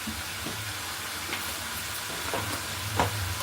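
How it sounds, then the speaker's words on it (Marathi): Onion and tomato frying in oil, giving a low continuous sizzle with a few soft stirring scrapes, close and fairly quiet, with no talking. "तर आपल्याला तेलावरती फ्राय करून घ्यायचं कांदा टॉमॅटो"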